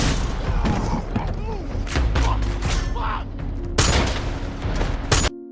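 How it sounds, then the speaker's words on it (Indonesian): Gunfire in an action film scene as a gunman takes down hostage-takers, with sharp bursts of shots and booms over a dramatic score, abruptly cut at the end. "Melumpuhkan semua penyandra dengan tembakan."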